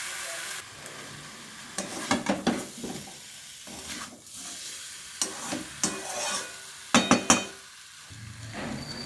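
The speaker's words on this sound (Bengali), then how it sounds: "মশলার সাথে আলুটা কষানো হয়ে গেছে আমার" Boiled potatoes stir-fried with spices for a fish curry sizzle in the pan, with repeated scraping stirs and spoon clinks coming in bursts throughout.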